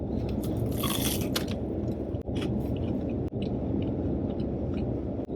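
Steady, loud crunching and chewing close to the ear, crisp crackly bites into a Taco Bell chalupa's crunchy shell running continuously with a couple of brief pauses.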